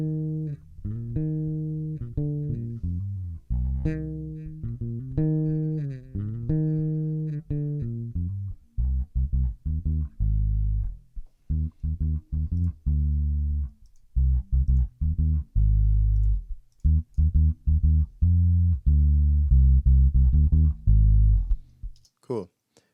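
A roots reggae mix of drums and bass with no EQ applied rolls through a deep, booming bass line and punchy rhythmic hits. The later bars grow choppier with short gaps between the notes.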